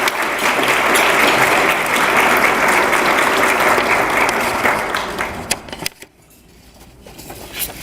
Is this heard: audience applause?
yes